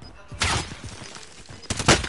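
Gunfire in Call of Duty: Warzone, two loud close bursts of rapid automatic shots separated by a short lull of scattered distant pops.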